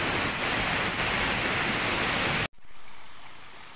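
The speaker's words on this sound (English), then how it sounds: "This is a small waterfall, a nature one." Steady rushing water from a small natural waterfall at Hotel Samawe in Mocoa, Putumayo, loud and close, briefly cutting out before resuming slightly softer.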